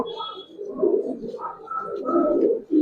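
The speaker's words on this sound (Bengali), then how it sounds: "তো এই যে কবুতরটা দেখেন" Giribaz pigeons coo in low, rolling bursts, with several overlapping calls close by and a brief higher chirp early on; no talk over them.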